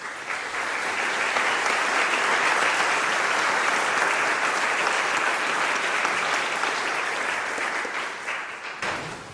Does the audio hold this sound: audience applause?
yes